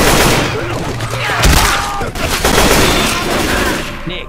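Dense gunfire fills a Left 4 Dead 2 match, rapid overlapping shots crackling loudly and almost continuously, with game effects mixed in.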